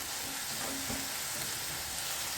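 Leaves dropped into hot oil for a green brinjal olo and stirred, producing a dense even sizzle with a faint scrape of stirring, close and steady, quiet overall.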